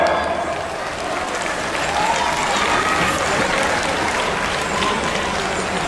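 A large crowd claps at a Hmong New Year celebration in Minnesota. The applause is steady and full, swells slightly partway through and carries faint crowd noise underneath.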